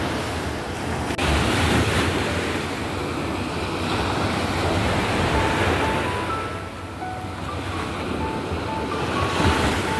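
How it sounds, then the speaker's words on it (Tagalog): Strong waves breaking on a seashore, a continuous loud roar of surf mixed with heavy wind buffeting the microphone, with no voices. "Kahit yan nakalakas ang alon"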